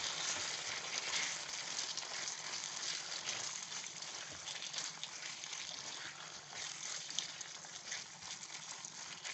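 Beef pieces fry in a pan of reduced ketchup, giving a steady, dense sizzle that crackles on without a break, close up and fairly quiet.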